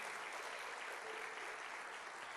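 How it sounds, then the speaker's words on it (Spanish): A church congregation claps loudly at a worship service, a dense, continuous wash of applause filling the whole moment without pause. "dale un fuerte aplauso al Señor"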